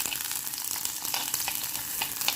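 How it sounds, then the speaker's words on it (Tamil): Onion and tempering spices frying in a pan for Tamil-style vada curry, a continuous bright close sizzle with light stirring scrapes, no voices. "அதை நல்லா கொஞ்சம் ஃப்ரை பண்ணுவோம்."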